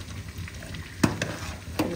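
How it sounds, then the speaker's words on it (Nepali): Sesame seeds roast in a pan with a soft, quiet sizzle and a few sharp clicks as they are stirred and scraped. "अब चाहिँ म तिल भुट्छु"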